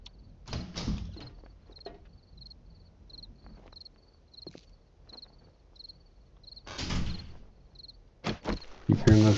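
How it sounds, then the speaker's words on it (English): Crickets in the survival video game 7 Days to Die chirp in a steady series of short, faint pulses, interrupted by louder door-like thumps and bangs and some bursts of other noise. "Hearing those crickets was making me think about nap time."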